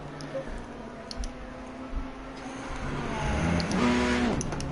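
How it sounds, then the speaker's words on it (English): A GT race car in Assetto Corsa Competizione at Misano holds at the rev limiter, its engine buzzing in a stuttering, choppy tone that swells louder and rises in pitch near the end. "Rev limiter."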